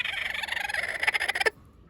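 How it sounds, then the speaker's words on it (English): A mother hen clucks and calls repeatedly in the morning, a close, fairly loud run of rapid vocal bursts that grows choppier before stopping abruptly, leaving quiet background. "But we're gonna see how Mama Hen's doing this morning"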